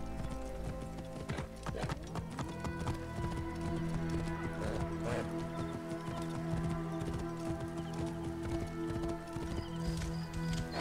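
Horse hoofbeats from riding in Assassin's Creed Origins, steady rhythmic clip-clop beneath a sustained musical drone and game ambience, with occasional talk.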